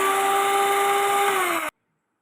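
An electric beater briefly mixing cake batter after sunflower oil is added for a white forest cake, with a steady, close, high motor whine that cuts off abruptly after under two seconds.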